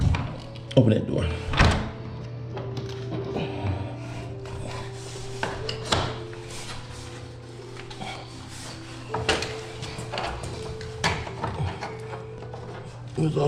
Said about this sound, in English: open that door.